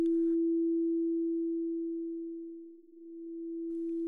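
A steady, pure sine tone from phase-controlled oscillators on a pattern-drawing oscilloscope synth holds one unwavering pitch, loud and alone, for the whole stretch.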